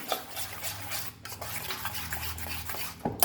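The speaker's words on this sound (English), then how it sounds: "mix this nicely" Appe batter with corn is mixed in a bowl, a close wet stirring and scraping of a spoon against the container, steady and fairly quiet with a brief clack near the end.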